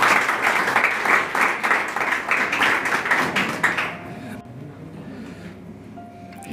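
An audience claps loudly for about four seconds, then the applause quickly dies away into quiet room noise.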